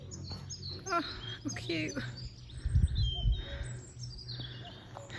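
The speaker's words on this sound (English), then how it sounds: "Big black birds with a white chest." Young birds, big black ones with white chests, give high chirps and squeaky calls outdoors while a person speaks softly over them and light wind rumbles.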